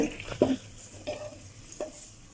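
Cumin and whole red chillies frying in oil in a pan for kadhi pakora, with soft sizzling and a few stirring scrapes at a steady, close level.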